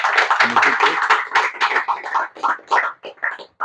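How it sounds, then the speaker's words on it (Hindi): A Ganesh committee audience applauds at a public event in Dhamtari, a dense crowd of claps filling the moment loudly, then thinning into scattered, uneven claps toward the end. "सब एक बार जोरदार ताली बजा के हमारे आयोजन"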